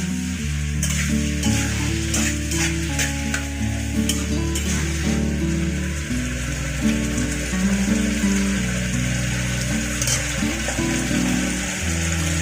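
Prawns salted and coated in turmeric fry in hot oil with a steady, loud, crackling sizzle. A constant low hum runs underneath.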